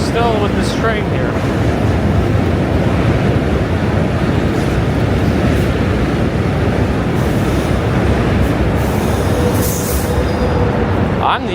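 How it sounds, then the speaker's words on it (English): A train running alongside on a New York bridge during a southbound walk over the Manhattan and Brooklyn bridges, heard as a steady, loud rumble and rush with wind buffeting throughout, no clear pauses. "We're still with this train here."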